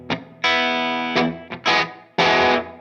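Fender Tom DeLonge Stratocaster electric guitar played through a clean tone: a handful of loud strummed chords, one rung out long, with short gaps and quick restrikes between them, no voices.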